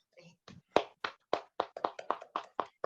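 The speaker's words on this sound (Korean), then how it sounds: "큰 박수로 응원해 주셨으면 좋겠습니다." Scattered claps at a talk event, about a dozen distinct hand claps in an uneven rhythm, fairly close and sparse rather than a full crowd.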